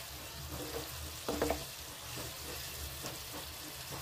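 Potatoes, cauliflower and four green chillies frying in oil for an aloo phool gobhi sabzi, a steady soft sizzle with a brief burst of stirring and clatter near the middle, close and alone with no voices.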